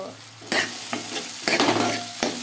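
Onion pieces frying in a pan for an eggplant, dried fish and egg curry, a loud close sizzle broken by a few quick stirring scrapes that send the hiss surging.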